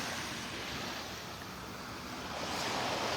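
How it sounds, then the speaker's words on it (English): Gentle surf washes onto a Gulf beach in North Naples, Florida, on a cloudy morning. It makes a constant soft roar of small waves with some wind rumble and no distinct crashes. "we got a little bit of wave action here stirring the bottom up"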